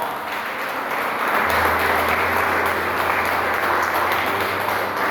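A church congregation applauds at a missions worship service, with steady, loud clapping that fills the room and swells slightly.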